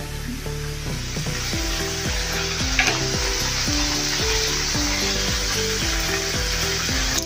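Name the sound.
wheat flour dosa sizzling on the pan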